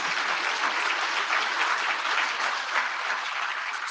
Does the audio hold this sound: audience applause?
yes